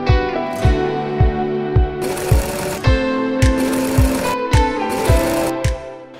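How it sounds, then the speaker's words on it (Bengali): Embroidery machines running in a busy garment factory, loud and close, with a fast regular mechanical thump of needles and gears repeating about twice per second beneath a constant whirring hum. "আর এই যে মেশিনগুলো আপনারা দেখতেছেন সবগুলো এমব্রয়ডারি মেশিন"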